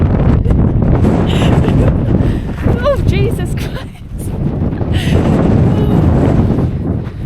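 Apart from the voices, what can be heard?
strong wind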